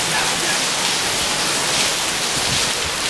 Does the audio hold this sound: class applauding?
no